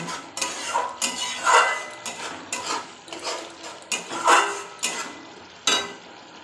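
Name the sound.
stirring and frying spice masala in a pan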